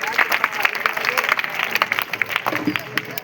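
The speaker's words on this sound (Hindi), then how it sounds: "नेताजी के लिए जोरदार तालियां" Applause for a politician in a comedy sketch: a steady, dense patter of clapping from a crowd, continuous and fairly loud, lasting the whole stretch with scattered sharper claps.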